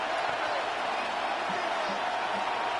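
Steady crowd roar in an American football video game, a continuous broad wash of stadium noise at moderate level with no distinct cheers or claps standing out.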